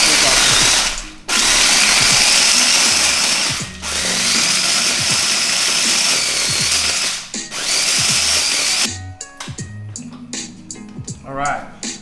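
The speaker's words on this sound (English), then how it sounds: "I've transferred it over to a food processor" Food processor grinding shredded Parmesan cheese into fine crumbles, loud whirring in several bursts with short breaks, then clattering as it stops.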